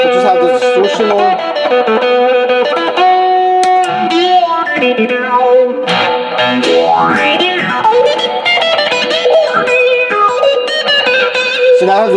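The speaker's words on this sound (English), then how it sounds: "We'll just have the distortion on." An electric guitar rings out through a distortion pedal, loud and sustained, with bending notes and gritty overdriven tone throughout.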